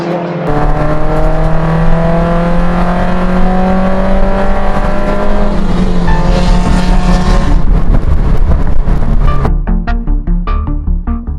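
Renault 5 GT Turbo and Peugeot 206 GTi race cars at Thruxton circuit, engines loud and close with rising, sustained revving notes that build and shift, then fade into choppier gear-change bursts near the end.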